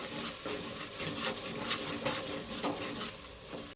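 Coriander and chilli powders stirred into softened tomatoes in a pan for chicken dalcha, a soft continuous sizzle with rhythmic scraping stirs, fairly quiet and close.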